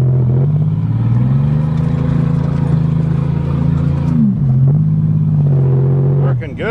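A steady, loud idle-to-rev drone from an old Oldsmobile 88 engine given a little gas, holding a low hum that dips briefly and recovers before cutting off near the end, with no talking over it.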